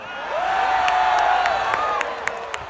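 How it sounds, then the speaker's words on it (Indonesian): An audience cheers and claps at a Barong dance competition in Jembrana, Bali, attended by Vice President Gibran, a sustained crowd roar with a rising whoop and scattered sharp claps throughout. "Tepuk tangan semua."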